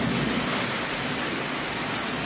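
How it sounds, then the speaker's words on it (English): Heavy hail pounding down outside a room, a dense, steady roar of impacts hissing without pause, loud and close, with no voices. "There's literal hail. This is crazy."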